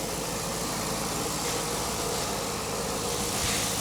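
A converted L77 V8 engine in a VF, freshly swapped from an LFX with the MAF sensor unplugged, idles steadily and loudly nearby with a dense continuous rumble and no audible rattles.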